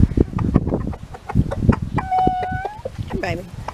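A rooster on a chicken farm clucks and gives short rising calls near the end, close by, mixed with people talking and handling noise.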